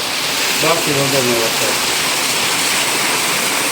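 Driving slanting rain and rushing floodwater in Junagadh make a steady, loud, broad roar close by, while someone speaks briefly over it early on.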